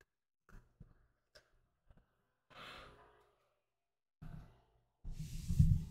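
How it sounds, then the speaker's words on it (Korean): A person yawning, with a few soft breathy sounds and small clicks, then a long drawn-out exhale and a louder, deeper yawn at the end, near and without talk. "하품 좀 그만하시고요."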